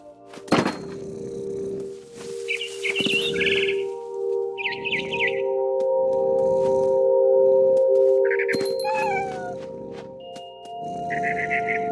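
Barn swallow chirping in a video game, with short bright twittering bursts scattered over a steady ambient hum, some calls nearer and louder, alongside soft thuds and a low rumbling bed.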